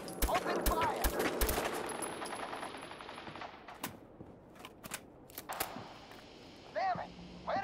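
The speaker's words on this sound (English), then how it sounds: "Men, open fire!" Soldiers fire a burst of gunshots in Fallout 4, loud at the start and then thinning into scattered distant shots, with a few short whistling effects near the end and voices under it.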